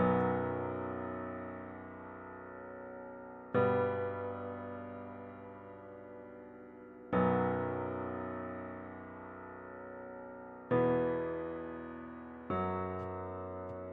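A Memphis-style beat's opening melody from FL Studio plays alone: sustained synth chords restruck every few seconds, each one fading slowly before the next hit, with no drums.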